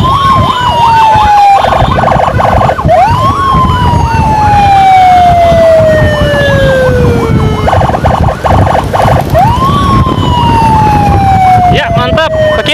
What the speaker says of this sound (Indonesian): Oke, kasih jalan untuk ambulan emergensi